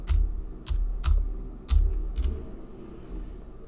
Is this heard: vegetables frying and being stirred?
no